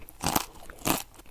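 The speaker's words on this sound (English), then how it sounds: "The crunch sound could be heard as far as the 4 tables from them." Two sharp crisp crunches of a potato chip being bitten, close and isolated, with a brief pause between them.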